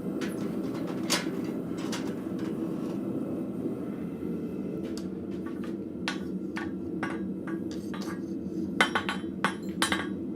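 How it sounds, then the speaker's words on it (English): In a blacksmith forge, a hammer strikes a steel shelf bracket with hooks in sharp ringing blows, irregular then quickening, over a steady background roar, fairly close. "You don't notice me moving my steel more than moving where I'm hitting with my hammer."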